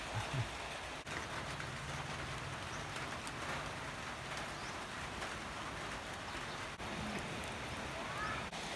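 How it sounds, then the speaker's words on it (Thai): A dense, steady wash of rain pours down without pause, broad and even, with a faint voice briefly audible early on. "ฝนเริ่มตกหนักแล้วนะครับ"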